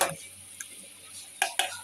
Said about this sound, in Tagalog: Halo natin yung munggo.